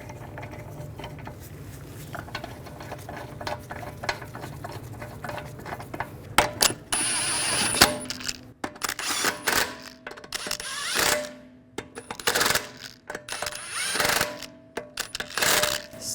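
Wheel lug bolts on a Volkswagen Tiguan being threaded and snugged down, quiet scraping at first, then rapid bursts of ratcheting and impact-driver chatter with pauses between, no talking.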